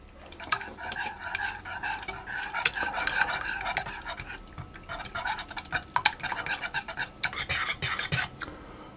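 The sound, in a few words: whisking beaten egg into chocolate cake batter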